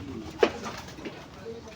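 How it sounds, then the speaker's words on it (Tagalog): Pet pigeons coo softly at close range: one brief, slightly louder coo stands out, followed by faint scattered murmuring against a quiet background. "Guys, ito yung mga kalapati ko."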